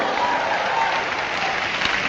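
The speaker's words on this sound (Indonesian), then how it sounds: "Bersorak-sorai, tepuk tangan dulu." Church congregation applauding and cheering during a Pentecost sermon at a leadership training event, a loud, continuous roar of many hands clapping that holds steady throughout.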